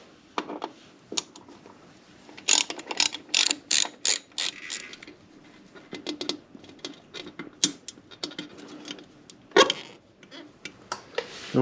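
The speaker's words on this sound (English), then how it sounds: "We've got our little 4mm Allen key socket on here, and it's just easy, 2 fasteners, and she will pop right off." Ratchet fitted with a 4mm Allen key socket undoing fasteners on a 2024 Harley-Davidson Fat Boy, in close, sharp bursts of rapid clicking with short gaps between strokes and no talking.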